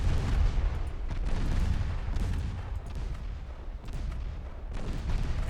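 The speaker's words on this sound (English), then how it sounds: "Of course the enemy torpedoes hit at that range." Naval gunfire and torpedo hits rumble through a steady barrage in the Ultimate Admiral Dreadnoughts video game. Deep booms and blasts overlap continuously at a loud level.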